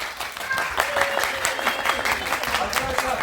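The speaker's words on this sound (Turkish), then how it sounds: "Alkış." Audience applause at a children's theatre show, SpongeBob play, with steady dense clapping from a crowd throughout, fairly loud and close, mixed with some children's voices and chatter.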